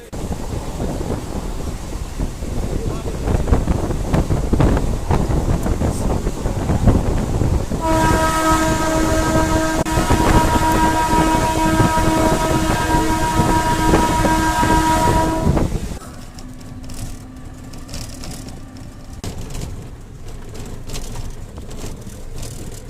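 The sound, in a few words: Krishnanagar train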